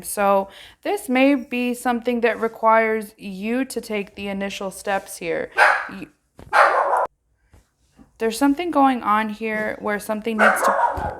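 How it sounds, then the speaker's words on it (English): A dog barks a few short, sharp times in the background while a person speaks steadily and closely throughout. "So, excuse the dog bark."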